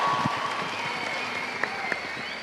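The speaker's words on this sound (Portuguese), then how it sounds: "Pode aplaudir." Congregation applause fills a church at a Christian conference, a steady dense wash of many hands clapping at moderate volume with a few sharper individual claps standing out near the end.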